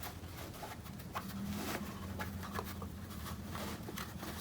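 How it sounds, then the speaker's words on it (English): Christmas light wire being wound by hand onto a spool, a steady soft rustling and scraping with light ticks, close and continuous with no talk. "Then I'm just going to keep winding onto the spool."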